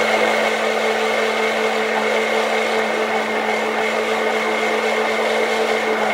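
A blender whirs steadily at close range, mixing an Aleppo-style soap batch with jojoba oil, one continuous even motor hum with no pauses.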